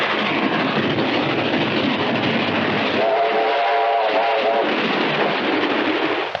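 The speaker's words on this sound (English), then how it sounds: "an electrical transcript which sounded just as if the train were passing" A train rushes past in a loud, continuous roar of wheels and rails, with a steam whistle sounding midway for about a second and a half, heard on a 1932 film soundtrack.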